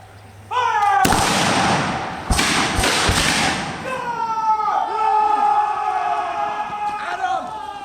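Musket volley at a battle reenactment: one massive crack with a long rolling roar, then shorter staggered shots a second later, with officers' shouted commands and voices carrying over the echo.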